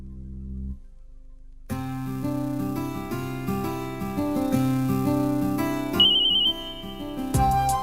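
A phone ringtone melody plays steadily after a brief quiet start, bright and fairly loud, with no one speaking.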